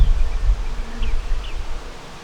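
Honey bees hum in a low, steady drone close by in a hive box above a double screen board, with a couple of faint higher buzzes passing over the dense background.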